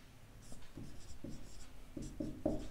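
Pen writing on paper while a linear algebra proof is worked out, with a run of short scratchy strokes in uneven bursts, close and fairly quiet, no talking.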